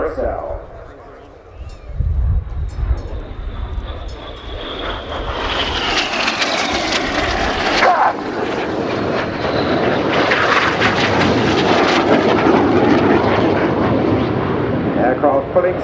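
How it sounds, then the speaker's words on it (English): Red Arrows synchro pair jets roar through an air show display at RIAT, the engine noise swelling as the aircraft close and cross, loud and sustained, with a commentator speaking over it. "The white smoke is on, the aircraft coming towards each other."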